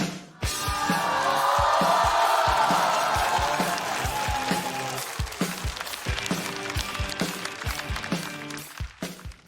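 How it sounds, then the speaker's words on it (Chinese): A stand-up comedy audience bursts into loud applause and cheering to welcome a comedian onto the stage. The sound swells at once, holds for a few seconds, then thins out into scattered claps and footsteps. "掌声有请陈艾"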